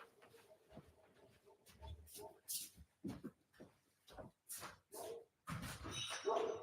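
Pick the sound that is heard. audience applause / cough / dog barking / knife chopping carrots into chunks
dog barking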